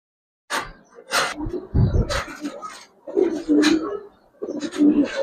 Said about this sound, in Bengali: অনেক ভালো ডাকে ভাই কবুতরটা